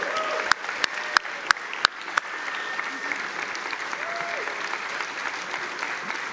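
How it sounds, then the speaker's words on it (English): Blue Raiders fans applaud steadily in a large room at a Conference USA press event, a dense sustained wash of clapping with a few sharp louder claps near the start and a voice briefly audible over it. "Give yourselves a round of applause"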